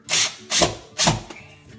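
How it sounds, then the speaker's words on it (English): A power drill drives screws into wood while a closet is converted into a mini-mudroom: three loud, close whirring bursts about half a second apart, then a short faint trailing spin. "Get my second screw, set it into place, and then go back and tighten up the first screw."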